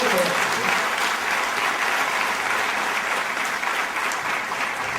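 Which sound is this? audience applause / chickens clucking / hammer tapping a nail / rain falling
audience applause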